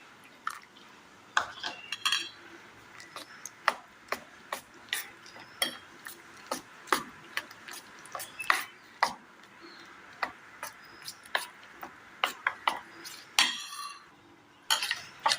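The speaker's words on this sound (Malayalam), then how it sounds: "കട്ട കെട്ടാതെ നന്നായി ഒന്ന് മിക്സ് ചെയ്തെടുക്കണം." A spoon stirs a milk and wheat flour mixture in a bowl, making steady rhythmic light clinks and taps against the sides, close and fairly quiet throughout.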